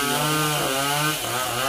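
A chainsaw cuts into a large tropical almond tree, its loud engine snarling close up in one continuous buzz that dips briefly as the chain bites.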